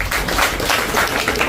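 Audience clapping at a parents' forum, a steady dense wash of many hands held at even loudness for a short stretch with no talking.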